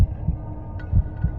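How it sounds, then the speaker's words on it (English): A pounding heartbeat sound effect, with heavy low thumps repeating in a steady rhythm over a dark, humming background and no voices. "his heart pounding with anticipation in his chest"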